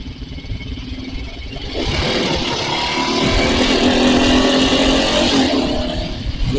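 A Suzuki TL1000R motorcycle engine revs and pulls under load on a ride, holding a loud steady drone that swells and climbs after the opening seconds, with wind rush mixed in.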